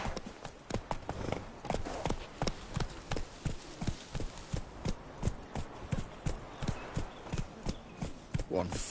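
Roach, Geralt's horse in The Witcher 3: Wild Hunt, gallops with a steady, rapid clip-clop of hoofbeats, close and prominent, as voices talk over the running hooves.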